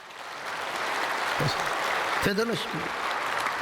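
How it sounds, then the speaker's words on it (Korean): An audience applauds steadily through a church sermon, the clapping continuing as someone speaks briefly over it. "박수 한 번 해드리세요."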